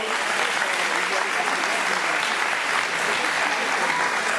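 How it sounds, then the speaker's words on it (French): Steady applause from a crowd at a mountain bike race awards, sustained clapping at an even level throughout without a break. "Merci de l'applaudir."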